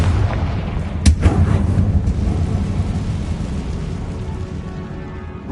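A blasting-curse explosion in Hogwarts Legacy booms out sharply, then a deep rumbling tail rolls on and slowly fades, loud and close with no talking.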